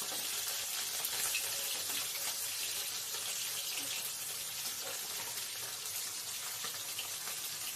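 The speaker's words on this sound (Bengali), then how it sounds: "ঠিক এভাবে একটু লাল লাল করে ভেজে নিতে হবে" Pieces frying in oil in a pan until reddish, for a mustard-paste pumpkin-leaf steamed fish dish: a steady, dense sizzle that runs evenly throughout, close and fairly loud, with no talk.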